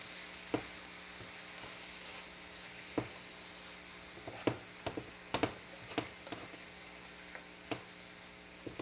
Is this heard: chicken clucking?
no